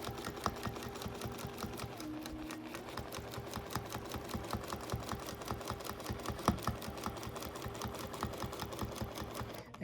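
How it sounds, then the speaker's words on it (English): A sewing machine stitches steadily in free-motion quilting along a ruler, its rapid even needle clatter running close and quiet, with a brief change in tone partway through. "I'm going to sew again, this time coming the other direction"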